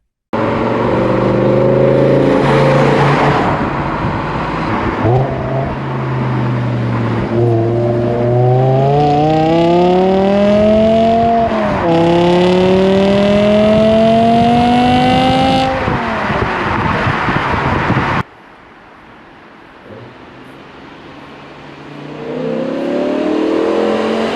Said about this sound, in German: Was für eine herrliche Sinfonie aus Ansaug- und Auspuffgeräuschen.